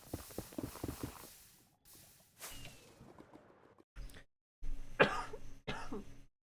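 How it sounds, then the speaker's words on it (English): A person coughs several times in short, harsh bursts with pauses between them, close and fairly quiet, with faint rustling in between and no talking. "I don't know why this cough won't go away."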